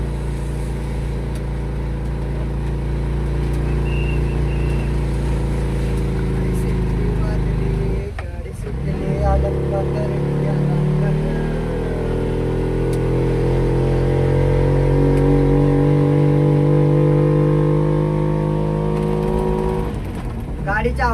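A car engine labouring up the Tamhini ghat road in second gear, a loud continuous drone that dips briefly and then climbs again in pitch as it pulls uphill, with a person talking over it.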